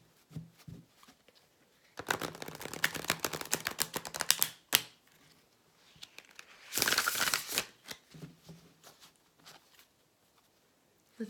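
Tarot cards being shuffled in two crisp, riffling bursts, with quieter handling and soft taps between them.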